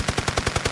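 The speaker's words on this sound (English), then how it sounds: "And upcoming is the 15 round burst." A recorded burst of automatic gunfire is captured for game sound work. Rapid, evenly spaced loud shots crack out in quick succession, about eight sharp reports packed into under a second, close and punchy.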